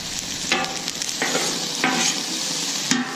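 Food sizzles in butter on a Camp Chef 600 flat top griddle outdoors, a loud steady frying hiss broken by several scraping spatula strokes across the metal surface.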